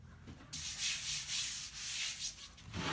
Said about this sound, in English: now we're going to sand and cut another smaller circle with a 16-inch diameter